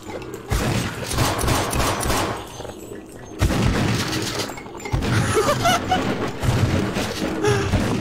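Shotguns fire in the horror game Afraid of Monsters, a dense run of loud overlapping blasts and impacts in several bursts, with brief lulls between them.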